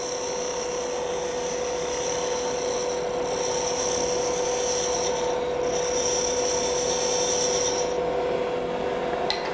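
Point tool cutting wood on a lathe while shaping an acorn, a steady close scraping rasp with a constant hum, running continuously for the whole span.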